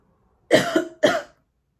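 Two sharp, close coughs in quick succession, the first with a rough rasp, then silence.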